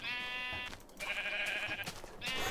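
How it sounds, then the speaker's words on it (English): Sheep in a beta-version video game bleat in a few close, wavering calls, one after another with short gaps and no talk over them. "Oh shit, there's sheep."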